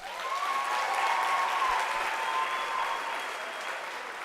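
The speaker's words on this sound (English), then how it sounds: "give yourselves a round of applause" Audience at a UNISA spring graduation ceremony applauding, a dense, continuous wash of many hands clapping in a large hall, steady and distant-sounding, with a faint whistle-like tone riding over it.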